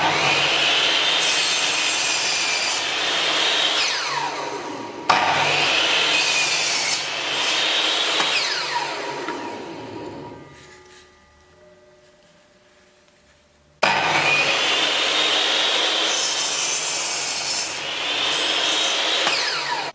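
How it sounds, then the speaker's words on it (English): A Makita MLS100 compound mitre saw cuts through wood in three loud, close passes. Each brings a high whining motor and rasping blade bite, and a short quiet gap falls between the second and third cuts as the blade spins down. "that is the Makita MLS100 compound mitre saw"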